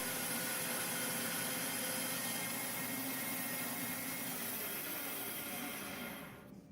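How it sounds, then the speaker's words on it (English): A Shopsmith bandsaw resaws wood into thin veneer, giving a steady, moderately loud whirring blade-and-motor hiss that stays constant before dropping away as the cut ends. "the bandsaw can cut much faster than was shown"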